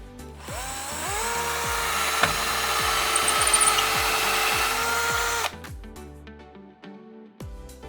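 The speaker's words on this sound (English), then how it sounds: "then we're ready to drill the final 2 holes" A power drill whirs steadily for several seconds drilling holes to fit a window blind, motor pitch rising then holding, with a brief rattle and a few clicks as it stops.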